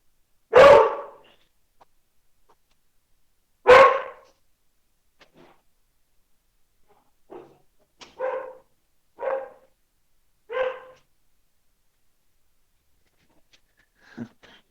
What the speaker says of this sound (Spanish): parece que ha llegado visita acá a la casa y ese perro se alborotó